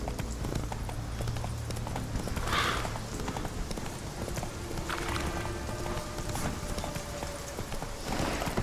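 Horse hooves clip-clopping steadily at a gallop in the video game The Witcher 3, close and rhythmic, with faint mechanical clicks and a brief whinny-like tone over a game soundscape, no talk.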